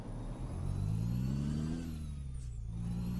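A heavy truck with a 600-horsepower Cat engine in American Truck Simulator accelerates under a heavy load, a steady loud engine drone that climbs in pitch and then settles back, with no talking.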